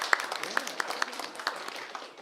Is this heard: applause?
yes